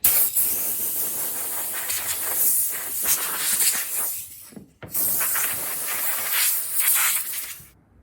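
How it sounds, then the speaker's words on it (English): Compressed air hisses in two long continuous blasts, with a brief pause midway, blowing sawdust off freshly sanded wooden fishing rod holder pieces; close and loud, no talking. "now that these are all sanded off, I'm just gonna blow them off real quick"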